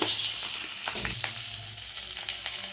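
Steady sizzling of spices frying in oil with turmeric added, for a fish roe and fish maw dish, with a few stirring scrapes and knocks in the pan, close and continuous without talk.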